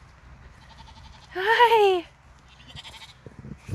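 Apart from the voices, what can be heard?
sheep bleating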